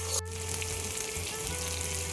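Spices with salt and turmeric fry in oil for chicken kosha, a brief, even sizzle heard up close with a steady low hum beneath and no talking.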